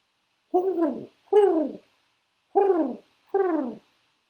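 A human voice imitates an owl, giving four separate hooting calls in two pairs with short pauses between them.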